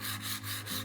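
Soft, rhythmic rubbing strokes of a cabinet scraper bevel being honed on a sharpening plate wetted with Windex, three or four back-and-forth passes, close and quiet.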